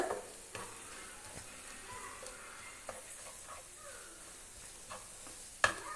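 Bitter gourd and green chilli being stirred in a frying pan, with a soft steady sizzle and a few sharp spatula scrapes and taps against the pan, one louder knock near the end; no talking.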